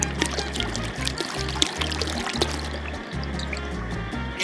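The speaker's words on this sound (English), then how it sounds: "Gotta get in there with that vinegar. This is cider vinegar." Cider vinegar poured into a pot of homemade salsa being made for canning, a steady close trickle and splash of liquid over a low, continuous background hum.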